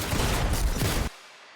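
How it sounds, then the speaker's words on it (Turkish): Enemy gunfire in Fortnite rattles out as a dense, loud burst of rapid shots that stops abruptly, leaving a faint tail of quiet game ambience. "bana sıkıyorlar"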